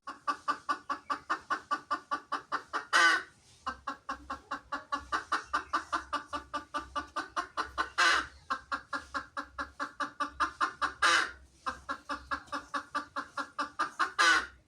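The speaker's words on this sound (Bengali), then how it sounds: "মুরগি" A chicken clucks in rapid repeated bursts, each run ending in a louder squawk, with a low rumble underneath from about the fourth second onward.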